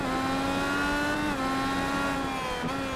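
An IndyCar race car at Road America pulls away from a pit stop, its engine a steady, high-pitched tone rising slightly in pitch, heard alone without talk.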